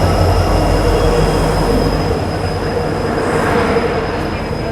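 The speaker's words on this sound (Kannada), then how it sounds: "ಯಶವಂತಪುರ ಎಕ್ಸ್ಪ್ರೆಸ್ ಅರವ ಆಯ್ತು ನೋಡ್ರಿ" A diesel-hauled Yesvantpur Express rolls into platform 3 at Yesvantpur Junction, a loud, steady rumble of wheels and carriages close by with a high metallic squeal riding over the constant roar.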